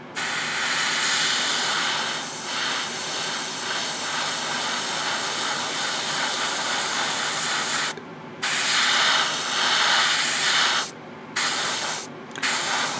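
A Gaahleri Studio GHAD-39 airbrush spraying, a loud continuous airy hiss held for long stretches and cut by a few short pauses near the end.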